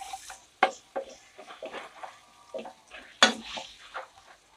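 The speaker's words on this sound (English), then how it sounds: "Let's saute it first." Garlic is stirred in a pan for a Filipino Ilocano pakbet, with close metallic scrapes and clanks of utensil on pan, two sharp knocks and only a faint sizzle underneath.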